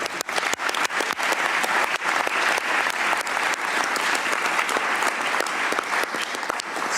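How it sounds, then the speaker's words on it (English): Sustained, dense applause from a large audience at a World Health Organization intergovernmental working group meeting fills the room steadily for several seconds, close and loud, with no speech over it. "Round of applause to you, especially."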